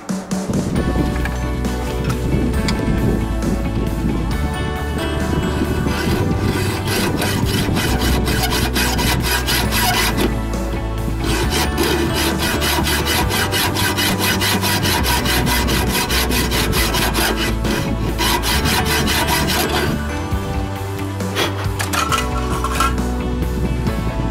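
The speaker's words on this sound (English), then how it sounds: "I'm gonna have to make a slot with the handsaw" A handsaw cuts a slot into a bolt during a wheel bearing and hub replacement on a 2000 BMW X5, producing a continuous close, rasping metallic stroke-by-stroke scraping with a steady back-and-forth rhythm and no talk.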